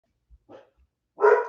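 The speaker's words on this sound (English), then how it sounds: "There's my dog." A single dog barks once, loud and close, at the end of an otherwise quiet indoor moment with a few faint earlier thumps and a short yelp.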